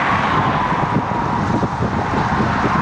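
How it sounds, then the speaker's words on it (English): Steady broadband wind rush roars across the microphone while riding a bicycle in a group on a cold 3 °C day, loud and continuous with no talking. "And you hear the wind."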